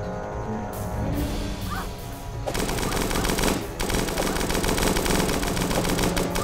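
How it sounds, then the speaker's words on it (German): Tank cannons and rapid gunfire in the Starbound video game, a dense, loud and continuous barrage of shots that grows heavier halfway through, with no speech. "Die Panzer schießen ihr eigenes Raumschiff ab?"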